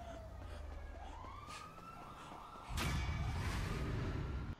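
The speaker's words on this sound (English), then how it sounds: "I can just hear so many sirens." Police sirens wail and yelp in Grand Theft Auto V, several overlapping and sweeping up and down, growing louder as a rushing engine and traffic noise swell midway, with no talking.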